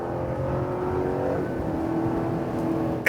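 A 2021 Chevrolet Silverado RST Rally Edition in sport mode pulls hard, its engine note rising and holding steadily as it revs, heard from inside the cab without talk.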